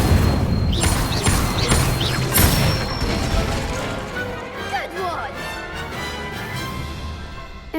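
Spell effects from a wand in the Hogwarts Legacy game, including the Incendio fire spell: a clatter of crashing, whooshing impacts with sparkling chimes, fading into softer magical whirls while a voice speaks over it.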